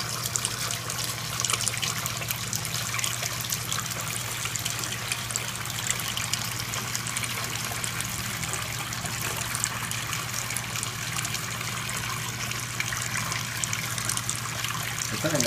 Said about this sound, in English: And now it's doing out the water very, very fast.